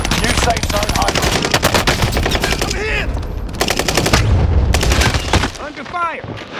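Dense, loud automatic gunfire from Call of Duty Warzone on Rebirth Island, rapid continuous bursts layered with booms and game voice callouts throughout.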